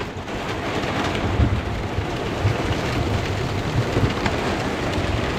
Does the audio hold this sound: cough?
no